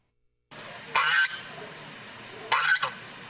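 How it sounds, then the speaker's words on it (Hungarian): Geese at a village goose festival in Szalacs, Érmellék, give two loud, harsh honking bursts about a second and a half apart over steady outdoor background noise. "Újra libák gágogásától volt hangos az érmelléki Szalacs"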